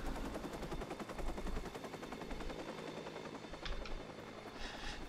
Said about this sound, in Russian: Вертолет только, только уйдет вертолет